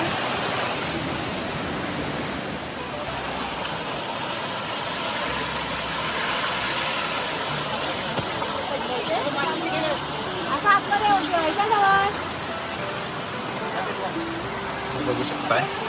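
A forest stream at a quiet Ganesh immersion spot pours in a steady, loud, even rush that never breaks. Brief faint voices rise over the water near the end.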